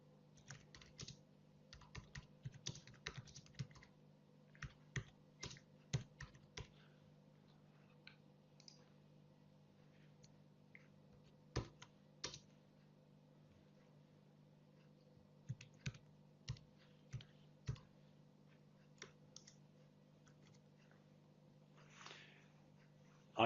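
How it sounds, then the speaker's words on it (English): Bursts of computer keyboard typing while entering notes into clinical data software, with uneven clusters of quiet, close key clicks over a steady low electrical hum and gaps of near silence. "And now I can type in some additional information."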